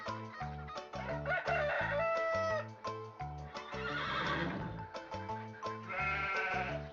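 A sheep bleats in the barnyard animal minigame of an old British video game, a brief bleat mixed into a loud, bouncy, steadily repeating musical loop that runs throughout.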